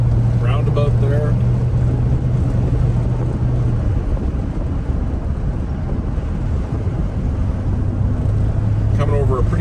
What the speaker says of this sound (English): The Hemi idles like a champ, very stock exhaust on this car.